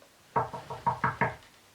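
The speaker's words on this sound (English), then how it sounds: "Can you do some knocking, Dylan?" Six firm knocks on a door, close and clear, coming in an uneven rhythm with short gaps and no voices over them, made to act out travellers seeking a room in Bethlehem.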